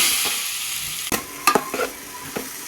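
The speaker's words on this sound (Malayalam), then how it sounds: "നെയ്യ് ഒഴിച്ചിങ്ങാണ്ട് ഇത് നമുക്ക് ഇട്ട് ഒന്ന് വയറ്റി മാറ്റിയെടുക്കാം" Chopped plantain frying in ghee with a steady broadband sizzle, broken by several sharp scraping stirs of a spatula in the pan, close and alone without voices.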